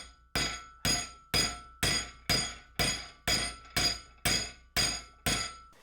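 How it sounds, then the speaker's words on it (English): A hammer strikes a steel transmission shaft piece for an electric Jeep in eleven evenly spaced, loud, ringing blows about half a second apart, each metallic clang decaying before the next. "Let's try beating on this piece."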